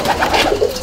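Brief, loud pigeon cooing at a loft, with soft warbling coos overlapping one another at close range.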